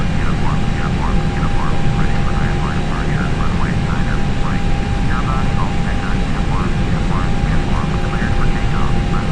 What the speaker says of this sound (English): Just got to taxi up to the runway and take off.